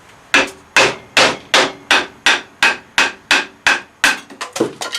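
A Cold Steel Bushman knife is batoned down between pieces of wet wood with a dozen sharp, evenly spaced blows, loud and close, ending in a quicker flurry of lighter knocks.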